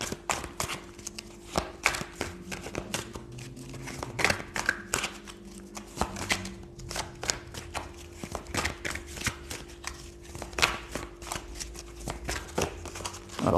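Tarot cards being shuffled by hand, a dense run of quick papery riffles and taps, close and moderately quiet, continuing steadily without talk.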